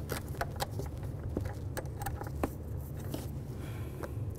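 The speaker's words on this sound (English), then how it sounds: "I'm gonna try to turn it counterclockwise, break that free. We're just gonna take this bolt completely out of here." Faint metallic clicks and light rattling from a socket wrench loosening a bolt on a 2008-2012 Jeep Liberty during a MAP sensor replacement, irregular small ticks over a low steady hum.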